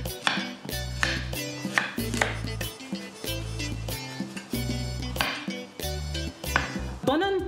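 A knife cutting a plantain into chunks in a home kitchen, heard as several separate knocks and clinks on a board and dishes, close and under steady background music.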